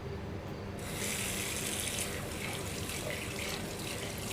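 Steady running water pours from a tap into a sink, a continuous close hiss and splash that swells slightly after the first second and holds evenly without speech.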